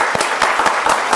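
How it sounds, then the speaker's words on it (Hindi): Loud, close audience clapping at a Bigg Boss-style show, with distinct rhythmic claps punching through a steady bed of applause. "जोरदार तालियां बजाएं"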